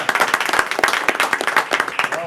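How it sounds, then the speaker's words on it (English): Attendees at a school board meeting clap hard together, a dense run of sharp, close hand claps filling the room for a couple of seconds, with voices talking over the clapping. "All did agree we'd clap for you really hard"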